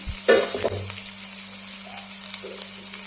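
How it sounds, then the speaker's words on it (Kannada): Green chilies fry in oil in a pan, a soft sizzle with a few sharper crackles and stirring scrapes early on, over a constant electrical hum, with no talking. "ಹಸಿಮೆಣಸು ಹಾಕೊಂಡು ಇವಾಗ ಇದನ್ನ ಚೆನ್ನಾಗಿ ಫ್ರೈ ಮಾಡ್ಕೊಳ್ಳೋಣ"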